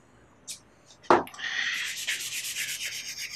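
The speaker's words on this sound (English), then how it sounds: "So you need to rub it really well in the open pores." A rag rubs ceruse finish into the open pores of an ash guitar body blank, a rhythmic scrubbing that follows a couple of brief scuffs and runs close and steady.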